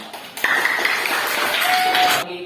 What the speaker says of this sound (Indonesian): Ya, tepuk tangan ya.